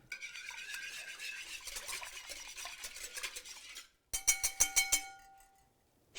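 Eggs with lemon essence and vanilla paste are beaten in a bowl, a quick rhythmic whisking clatter that stops briefly, then resumes as several distinct ringing taps of utensil against bowl, close up.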